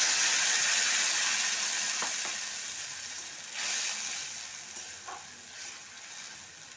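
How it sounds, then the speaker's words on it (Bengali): Green chili and coriander paste sizzles in a pan with browned onions for a green pickled katla fish dish, a loud frying hiss that eases off, with a few stirring scrapes and clinks close by. "পেঁয়াজটা লাল করে ভাজা হয়ে গেছে, এবার কাঁচা লঙ্কা ধনেপাতার পেস্টটা দিয়ে দিলাম।"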